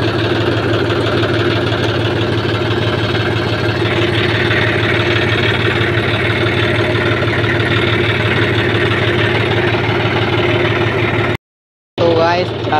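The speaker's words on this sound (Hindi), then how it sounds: "ट्रैक्टर चलाएंगे हम" A tractor's diesel engine idles and runs steadily at close range with a loud, even low rumble and knocking pulse, cutting out briefly near the end before resuming.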